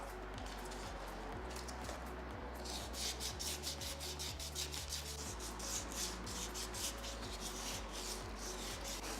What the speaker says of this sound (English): once you're happy that all those edges and sharp parts have been removed, you can go on to the fine sandpaper